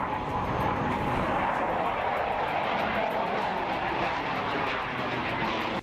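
Military jets at an air show over a blue sky trailing colored smoke: a loud, continuous broadband engine roar that holds steady for several seconds, then cuts off abruptly.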